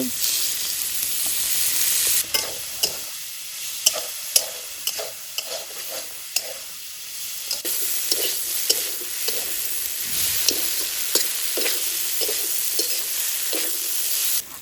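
Koi fish frying in mustard oil with salt, green chili and turmeric, a steady soft sizzle with scattered clicks and scrapes of stirring throughout, moderately quiet with no voices.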